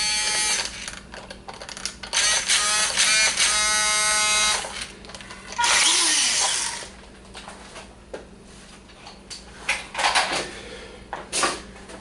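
WPL B-24 RC truck motor whines in loud bursts of buzzing revving, starting and stopping several times with gaps between, close to the listener.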